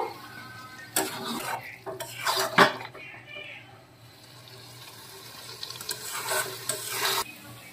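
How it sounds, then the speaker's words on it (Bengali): Eggs stirred into a spice paste in a pan, with metal spatula scrapes and clinks against the pan coming in bursts over a low background, loudest near the start and end. "ডিমগুলো দিয়ে আরেকটু কষিয়ে নেব"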